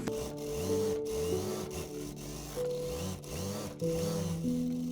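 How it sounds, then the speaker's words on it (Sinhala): Domestic sewing machine stitching a double-folded hem on the sleeve of a frock, running in steady close bursts of rapid whirring needle rhythm with brief pauses and restarts between runs. "අත කොටසේ යට වාටිය මම මේ විදිහට දෙසරයක් නමින් මසා ගන්නවා."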